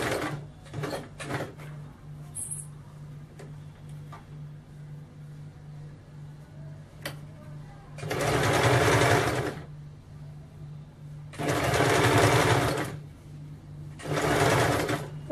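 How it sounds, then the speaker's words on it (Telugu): A sewing machine stitches a folded hem edge on a kameez, running in three loud, close bursts of steady rapid whirring separated by quiet pauses and a few faint handling clicks. "stitch this edge with folding"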